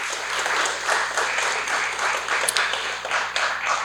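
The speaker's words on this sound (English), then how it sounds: "Let's give them one more warm round of applause" Steady, dense audience applause for school board candidates at a candidates forum, filling the hall evenly throughout with no speech over it.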